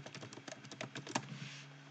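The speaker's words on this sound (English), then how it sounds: "we're going to start typing network status" Rapid clicking keystrokes on a computer keyboard, close and fairly quiet, with an irregular rhythm over a faint steady hum.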